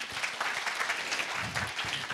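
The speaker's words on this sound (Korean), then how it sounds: "수고해주신 최 대표님께 큰 박수 부탁드립니다" Steady applause from an audience at a Korean technology conference session on gaze and brainwave based VR interfaces, filling the hall evenly for about two seconds with no voice over it.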